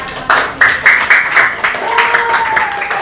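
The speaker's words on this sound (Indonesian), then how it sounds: "Oke, tepuk tangan." Scattered clapping from a small group of people in a classroom, a handful of claps building into a brief round of applause, with faint voices and a tone underneath.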